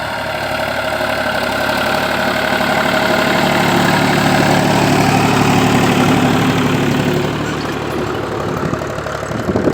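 A tractor engine running in a farm field while plowing, a loud steady diesel drone with a low knocking vibration, close and continuous for nearly ten seconds with no voices.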